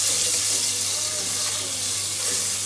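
Green chillies, onion and tomato being mixed with spices in hot oil for chana chaat, a dense continuous sizzle and hiss close up, with faint stirring underneath and no clear talk.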